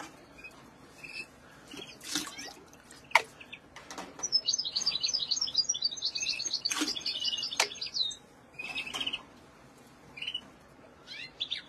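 Small caged songbirds, goldfinches and canaries kept for crossbreeding, chirp and twitter in bright bursts. A sustained trilling song runs through the middle, with scattered calls before and after. The birds sound fairly close, and nobody speaks.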